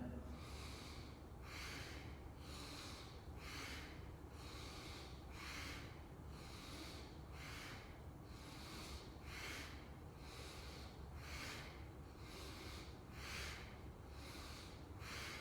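Deep yogic breathing in a steady rhythm, about a dozen airy rushing breaths through the nose repeating every second or so, close and sustained throughout.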